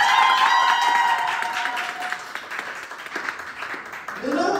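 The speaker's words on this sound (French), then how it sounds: "Applaudissez." An auditorium audience claps and cheers loudly, then the applause thins and fades while a voice speaks over it and another person begins talking near the end.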